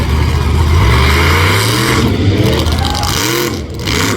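A Scarlet Bandit monster truck at New Egypt Speedway roars with a loud, sustained engine rev on the track, surging and falling as the driver tries to pop it onto its back tires beside a Jersey barrier.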